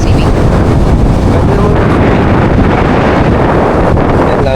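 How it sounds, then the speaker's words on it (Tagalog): Strong beach wind at Boracay roars and buffets the microphone continuously, loud and steady throughout with no pauses. "malakas ang hangin."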